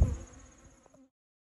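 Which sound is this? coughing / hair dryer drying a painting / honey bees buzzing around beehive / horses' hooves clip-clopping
honey bees buzzing around beehive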